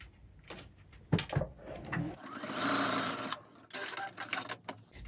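A sewing machine stitching a zipper pouch, running in short bursts with pauses between, a steady close mechanical whir rising and falling as the needle speeds up and stops.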